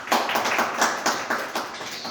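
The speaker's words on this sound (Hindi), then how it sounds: "उनके लिए जोरदार तालियां बजाएं।" An audience at a National Youth Day school event at K V Dwarka, Gujarat, claps in a fairly rhythmic, unison beat, loud and close, with the bursts pulsing steadily throughout.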